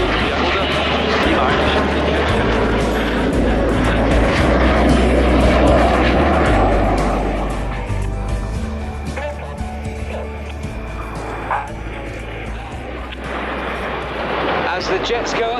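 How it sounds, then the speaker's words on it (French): Jet aircraft flying in an air show roar loudly and continuously overhead. The engine rumble swells and then eases slightly as the jets pass. "As the jets go upside down now, ladies and gentlemen, this is where the pilots will see you waving."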